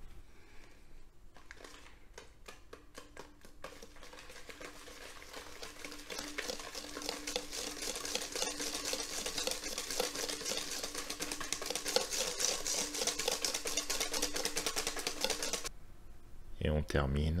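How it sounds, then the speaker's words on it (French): Whisk beating eggs into galette batter in a bowl, a rapid, steady clatter running continuously at close range, moderately quiet, with a faint hum beneath and a short break near the end. "Fouetter."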